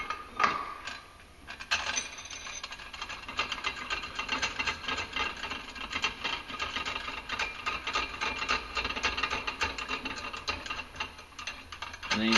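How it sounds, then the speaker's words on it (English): Adapter of a CCT 510 clutch compression tool being threaded down during a clutch kit install on a Polaris 570 Sportsman ACE, RZR or Ranger, a continuous close ratcheting and clicking run with metallic rattles, steady throughout. "Thread down the adapter."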